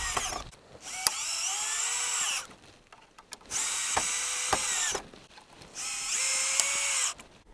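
A power drill whirs in three sustained bursts, each winding up and slowing as it drives a screw into wood, with short pauses and faint clicks between.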